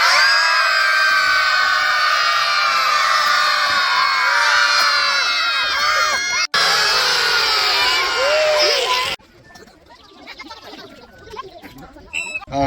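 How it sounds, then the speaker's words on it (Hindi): A crowd of children at a summer camp campfire in Patnitop shouts and screams together loudly in a long sustained roar, breaks briefly, roars again, then falls into scattered quieter voices and chatter. "बॉडी को ढीला छोड़ो, आसमान की तरफ देखो और चिल्लाओ।"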